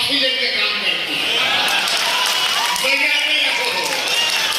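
Dense, sustained applause from a large festival crowd at the 48th Raas Mahotsav in Pathshala, Assam, with whistles and voices scattered through the steady roar.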